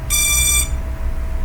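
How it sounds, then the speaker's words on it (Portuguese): A small drone's electronic speed controller, configured with BLHeli Suite, gives one short, loud, high-pitched electronic beep right after the battery is disconnected, then falls quiet. "pode desligar a bateria, ele vai bipar,"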